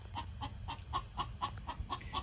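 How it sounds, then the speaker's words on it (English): Backyard chickens cluck in a quick, regular series of clear close calls while laying eggs, about eight notes over a couple of seconds, above a low rumbling background. "Sounds like the chickens are laying eggs"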